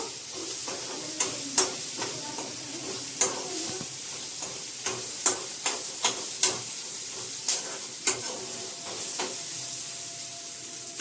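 Onions frying in a pan, with a steady sizzle and repeated sharp scrapes and clinks as they are stirred, close and clear, with no talk.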